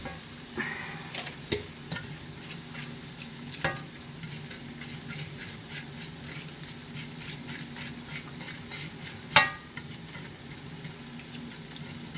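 Food being stirred in a pan with water added, a steady soft scraping sizzle with a few sharp clinks of the utensil against the pan, heard alone without talk.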